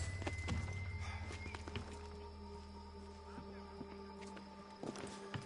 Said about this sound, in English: Someone calling a horse, I guess.